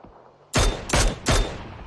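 Three loud, close gunshots from PUBG on the Erangel map, evenly spaced about a third of a second apart, each with a short ringing tail, after a quiet lead-in.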